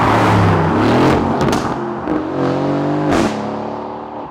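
An Audi R8 supercar engine revs and drops through repeated gear changes, its loud tone rising in pitch, cutting briefly at each shift, then climbing again, heard close.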